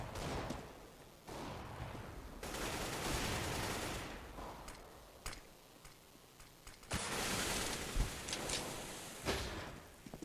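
Gunfire from the video game Counter-Strike on the de_cache map during a competitive match comes in repeated bursts of rapid shots at moderate loudness, with short gaps between volleys.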